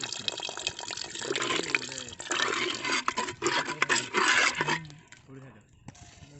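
Water pours into a new clay cooking pot, a steady gushing splash for several seconds that tapers off near the end, fairly close, with a faint voice at the start.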